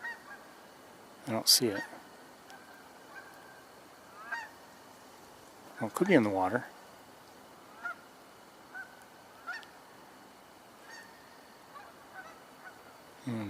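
Geese honk outdoors at a moderate distance, several separate calls and a louder burst of honking scattered through the stretch, while people talk quietly now and then.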